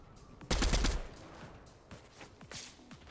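Loud burst of rapid automatic gunfire in the Fortnite video game, followed by scattered quieter single shots and distant impacts.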